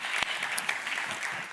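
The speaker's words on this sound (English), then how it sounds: "let's give a round of applause" A conference audience at a blockchain summit applauds steadily for the whole short stretch, dense clapping with no pause.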